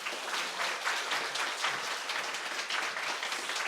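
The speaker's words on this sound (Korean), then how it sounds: "우리 나오실 때 큰 박수로 맞이해 주시기 바랍니다." A church congregation at a Sunday morning service applauds to welcome a pastor, with dense, steady clapping that holds at an even level for a few seconds and no voices over it.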